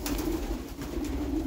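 Crested Łomża pigeons cooing inside a pigeon loft, a soft, repeated low coo close by over a quiet background, with no speech.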